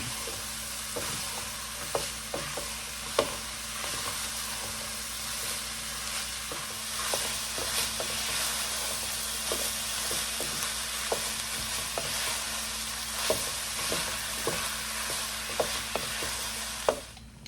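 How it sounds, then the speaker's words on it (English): A spoon stirs chili in a pot after cumin and chili powder go in, a steady sizzle running underneath with soft scrapes and occasional sharper knocks against the pot, close and continuous with no talking. "I'm just going to stir this up as we go"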